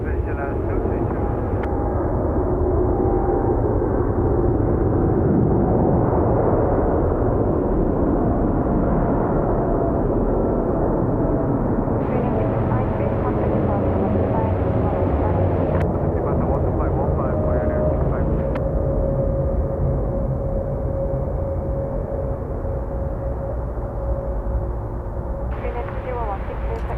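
An Asiana Airlines jet landing at Seoul Incheon airport on runway 33 left in calm wind, a sustained loud engine roar and rumble that shifts in tone as it passes, with voices talking over it.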